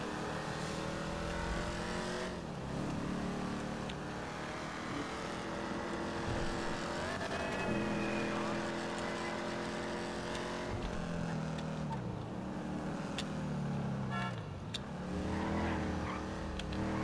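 A car engine droning and revving continuously while driving in Grand Theft Auto V, pitch rising and falling with acceleration and gear changes, steady and close with no talk.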